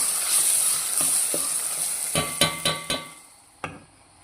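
A cluster bean curry mixture with a pinch of asafoetida sizzles in a pan, a soft hiss fading over a few seconds, punctuated by a quick run of sharp spoon clacks against the pan, with no talking.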